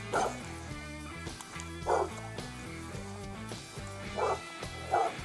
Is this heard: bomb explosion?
no